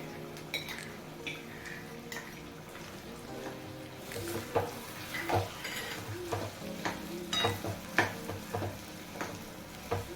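Garlic and green chili paste hits a pan and sizzles softly while a spoon stirs, with scattered close clicks and scrapes against the metal, no one speaking.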